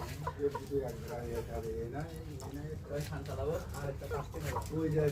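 Caged layer chickens cluck and murmur softly in the background while someone talks steadily over them.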